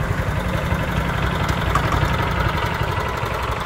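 A 5.5 horsepower Isuzu UHV diesel engine on a tiller idles in a steady, loud, continuous low rumble with even vibration and no talk throughout.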